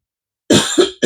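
A man coughs twice in quick succession, close and loud, with no talk around it.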